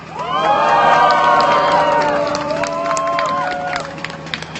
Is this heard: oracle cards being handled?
no